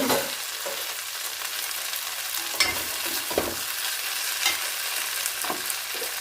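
Eggplant fries in ghee in a pan, a steady close sizzle broken by several scraping stirs of a spatula, with no voices.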